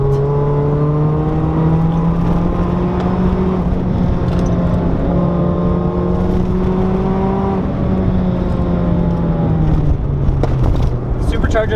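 A supercharged Mazda Miata making about 220 wheel horsepower, driven hard on a twisting mountain road, gives a loud steady engine drone that climbs and eases as revs shift, heard from inside the car throughout.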